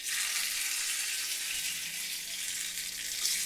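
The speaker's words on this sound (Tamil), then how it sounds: "இப்போ நம்ம வந்து எண்ணெயில் கொஞ்சம் கொஞ்சமாக ஒன்றா போட்டுக்கலாம்." Sweet corn cutlets fry in hot oil with a steady, even hiss of sizzling that holds at a moderate level throughout.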